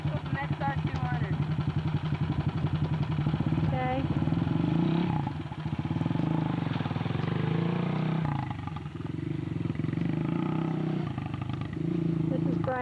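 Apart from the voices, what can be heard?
XR200 motorcycle engine running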